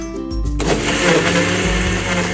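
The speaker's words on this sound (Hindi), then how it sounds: "मिक्सर जार में डालने के बाद मैंने इसको 2-3 मिनट तक अच्छी तरह से व्हिप किया है" Kitchen mixer jar whipping fifteen days of collected frozen milk cream for homemade desi ghee, a steady loud whirring motor that kicks in after a brief start and runs continuously without talk.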